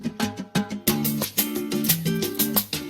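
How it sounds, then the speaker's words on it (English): Looped percussion hits in a steady groove layered with plucked nylon-string guitar chords, close and moderately loud. "From there, what I did is added in some percussion loops"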